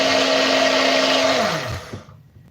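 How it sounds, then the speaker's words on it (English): A kitchen blender whirs loudly with a steady high-pitched motor whine, then winds down and cuts off near the end, leaving brief rattling. "that's why you use a blender"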